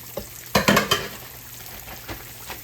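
Sliced yellow squash sizzles in hot grease in a pan, with a few brief louder stirs and scrapes near the start over a steady, quiet fry.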